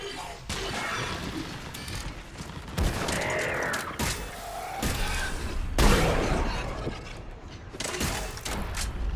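Gunfire in the video game Mass Effect 3 during a battle on Thessia, dense repeated shots and crashing impacts running throughout at steady loudness, mixed with sharper blasts.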